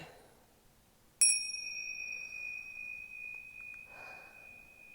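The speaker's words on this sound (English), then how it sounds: "these bells are hot. That's why I'm touching them like that." Hot metal bells sitting in the sun give a single bright, ringing strike that sustains with a long, clear tone fading slowly, heard close and alone with faint handling noise afterward.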